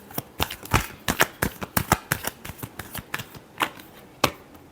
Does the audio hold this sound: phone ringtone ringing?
no